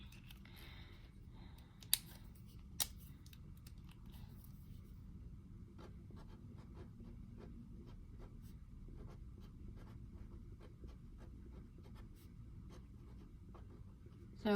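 Pen scratching across paper while jotting a budget income heading, faint and soft with small scattered taps and strokes over a steady low room hum; a couple of sharper clicks stand out near the start.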